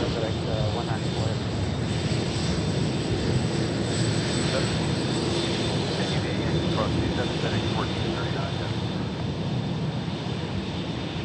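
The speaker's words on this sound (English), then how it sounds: "This A300 going to Madison, Wisconsin." A FedEx Airbus A300 jet roars steadily at Memphis International Airport, with a continuous loud engine rumble and whine filling the scene, and a voice talking faintly under the noise.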